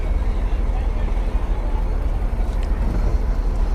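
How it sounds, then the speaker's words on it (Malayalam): Fishing boat slowly approaching in Mangalore fishing harbour, a steady low engine rumble blended with wind buffeting the microphone, continuous and fairly loud throughout. "ഒരു ബോട്ട് മെല്ലെ അടുത്തുകൊണ്ടിരിക്കുകയാണ്."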